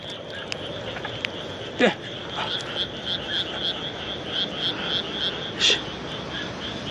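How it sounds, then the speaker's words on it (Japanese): A Taiwan rice-field cricket (tambo korogi) chirps among rice paddies, a steady series of short, evenly spaced chirps with a brief sliding call near the start, while someone speaks briefly. "田んぼコオロギや。"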